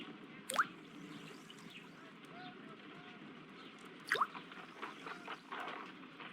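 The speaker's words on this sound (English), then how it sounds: "I must take a pipette and place several drops of hydrogen peroxide." Drops of hydrogen peroxide squeezed from a pipette in a Sherlock Holmes detective game, two distinct wet drip plinks a few seconds apart, close and clear over a soft ambient bed with faint fizzing.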